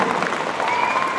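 A large audience clapping hard at a production website launch event, a dense, energetic burst of applause heard fairly close, steady throughout with a faint tonal whine underneath.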